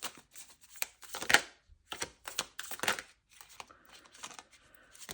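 Tarot cards shuffled by hand in short crisp riffling bursts and papery flicks, close and fairly loud, with brief pauses between handfuls.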